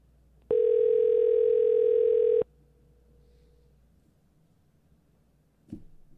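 A phone call gives one loud, steady electronic ring tone lasting about two seconds, then cuts off abruptly when it is declined. Quiet follows, broken by a single faint click near the end.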